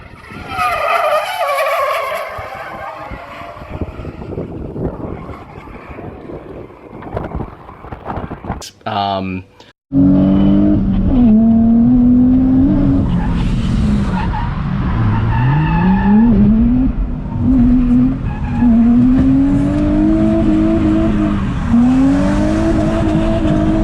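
A Nissan Skyline drifts at high speed, its engine roaring loud and close while the tires squeal and skid in long wavering screeches, after a brief lull and a sharp burst mid-way.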